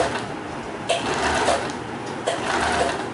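A sewing machine runs slowly while stitching satin ribbon for a small doll dress, its motor whirring steadily with two short surges as the needle speeds up.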